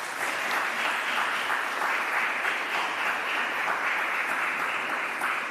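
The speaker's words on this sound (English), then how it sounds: "Please applaud them." Sustained applause from an audience at the investiture ceremony for Jamaica's Poet Laureate, heard as a full, even wash of many hands clapping without a break.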